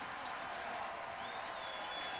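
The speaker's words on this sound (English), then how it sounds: "Crowd is picking it up." Large football stadium crowd at a CFL game between the Montreal Alouettes and Saskatchewan Roughriders, a dense, steady roar of cheering and clapping that holds loud and continuous throughout, with a faint whistle-like tone rising near the end.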